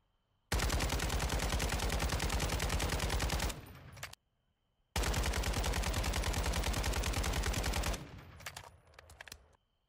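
Two long sustained bursts of rapid automatic gunfire from a rifle fitted with a long foregrip underbarrel in Warzone 2.0, loud and close, each burst lasting about three seconds with a brief pause between.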